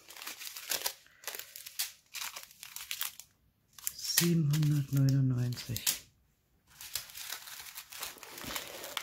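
Small plastic bags of diamond painting drills crinkle and rustle in bursts up close, between stretches of someone speaking German and a short humming voice.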